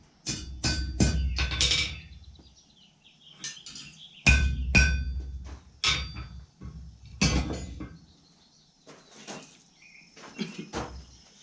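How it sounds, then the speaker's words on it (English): Hammer blows on hot metal at an anvil during forging come in short bursts of sharp, ringing strikes separated by pauses, close and fairly loud. "I went and took it over the anvil real quick"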